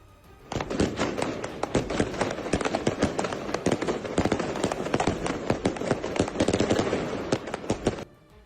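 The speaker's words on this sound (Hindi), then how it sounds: "वहां कुछ लोगों ने पटाखे जलाकर खुशी मनाई।" Firecrackers set off in a street in Lebanon, a long rapid string of sharp cracking bangs popping loudly and irregularly for several seconds before stopping abruptly.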